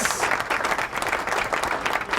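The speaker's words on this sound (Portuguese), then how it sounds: "Palmas!" A group applauds briefly after a runner's testimonial, a continuous burst of many hands clapping at fairly close range, steady and loud throughout.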